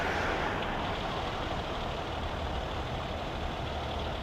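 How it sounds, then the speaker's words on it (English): Street traffic near the Brooklyn Bridge in New York City, with a steady, loud wash of engines and rumbling trucks idling and passing close by, continuous without pauses. "the traffic is still going pretty fast right here"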